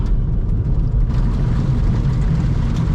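Loud, steady low rumble of road noise from inside a moving 8th-generation Honda Civic Si on RPF1 wheels, a constant droning roar with no talking.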